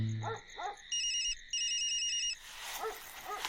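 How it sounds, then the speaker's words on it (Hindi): A mobile phone plays an electronic ringtone in a couple of bright repeating bursts, with faint whining sounds before and after. "रात के 2 बजे मोबाइल फोन की घंटी बजी"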